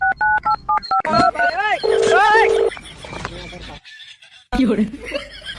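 A quick run of telephone keypad beeps as a number is dialed, several short tones in succession, followed by chuckling and talking voices, close and clear.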